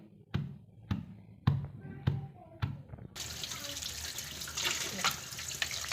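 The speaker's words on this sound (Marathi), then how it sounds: "भाजी ना आपण दोन तीन पाण्याने स्वच्छ धुवून काढू" Aaghada leafy greens being washed, first several hollow thumps a half-second apart, then water running or splashing steadily into a vessel, close and fairly quiet.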